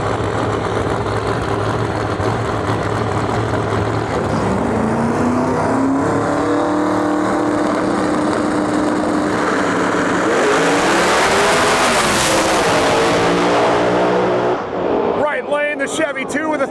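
Pro 275 drag race cars, a twin turbo C5 Corvette and a Procharger crank-driven Chevy 2, roar loudly as engine tones climb and fall through a long run, with talk over the din and crackling pops at the end.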